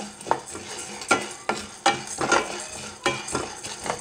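Lentils dry roasting in a pan are stirred, with close scraping sweeps and light rattling at irregular intervals over a faint sizzle, and no voices.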